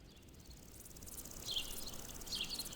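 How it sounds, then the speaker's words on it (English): Birds chirp and insects buzz and trill in a grassy alpine meadow in the Dolomites, a faint, steady outdoor ambience with high twittering calls rising in the second half. "The birds singing, the grasshoppers jumping across the grass."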